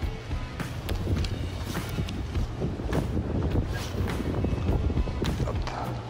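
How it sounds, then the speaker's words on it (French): Steady wind rumbles and buffets against the microphone outdoors at a carp fishing pond, a constant low roar with occasional gusts and faint rustling. "là il y a quand même pas mal de vent"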